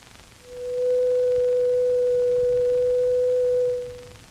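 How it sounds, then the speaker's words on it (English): Steady 500-cycle sine wave tone, pure and constant, fading in and holding evenly for about three seconds before fading out, loud and alone over faint background hiss. "This simple 500 cycle tone can be represented mathematically by a sine wave."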